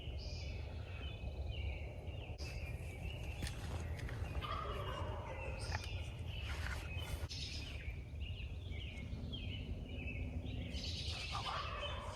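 Wild turkeys gobble several times from a distance in Connecticut, rattling calls breaking through a quiet outdoor hiss, with other small birds chirping.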